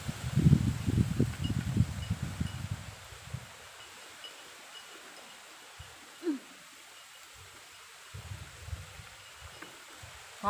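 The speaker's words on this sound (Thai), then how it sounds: "ลมตึงตึงอยู่เมื่อนี่" Strong outdoor wind gusts rustle leaves in a vegetable garden, loud buffeting and rustling at first, then fading into a quieter breezy hush with occasional rustles, no talk.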